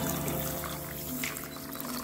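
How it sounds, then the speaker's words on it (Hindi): Warm water pours steadily over 250 grams of poppy seeds (khaskhas) set to soak for halwa, a continuous close trickle and splash with no talking. "इसको हम 4 से 5 घंटे के लिए गुनगुने पानी में हम भिगो देंगे"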